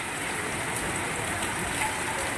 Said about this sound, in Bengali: আর এখন মুষলধারায় বৃষ্টি শুরু হয়ে গেছে।